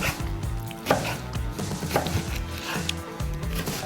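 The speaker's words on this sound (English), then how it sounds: "Now it's time to cut the steaks." Knife slices through cooked steaks on a wooden board, a run of soft, uneven cuts and taps close up with faint kitchen ambience.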